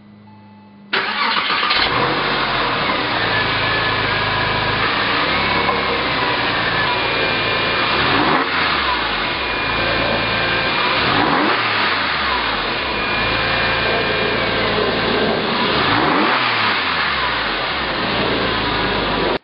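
A 2004 Porsche 911 C4S with a rebuilt 3.8-liter engine starts abruptly and then runs loud and close, its revs swelling and falling in several distinct blips.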